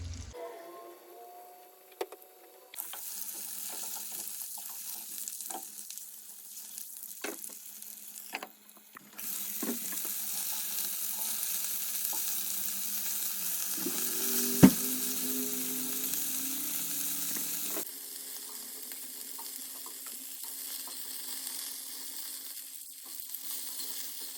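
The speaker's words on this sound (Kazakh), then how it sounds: "8 минут ар жағын, сосын 8 минут бер жағын, шамамен ортақ 16 минуттай қуырасыздар." Zander (pike-perch) pieces frying in a pan, a steady bright sizzle with occasional clinks and shifts in intensity as the fish is moved, continuing for over twenty seconds with no talking.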